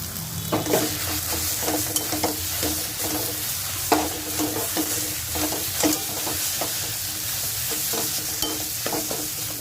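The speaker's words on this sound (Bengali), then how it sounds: "মশলাগুলো খুব ভালো মতো ভাজা হয়ে গেছে। এরপর দিয়ে দিচ্ছি বেটে রাখা সয়াবিন" Ground soybean paste and grated potato fry and get stirred in a spiced pan for a vegetarian soybean pakora filling. A steady sizzle runs underneath while a spoon scrapes in quick, regular strokes, close and clear with no talking.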